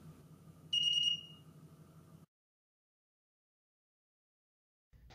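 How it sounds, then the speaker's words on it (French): Very low pressure alarm from a homemade Arduino weather station: a short, loud electronic tone of about half a second over a low hum, then silence. "Et puis une alarme très basse pression."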